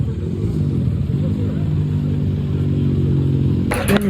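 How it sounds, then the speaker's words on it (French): A motorcycle engine idles steadily in a pit area at an endurance race while mechanics prepare the bike, a continuous low hum with faint background voices and a brief clatter near the end. "Là les mécanos ils sont en train de préparer la moto."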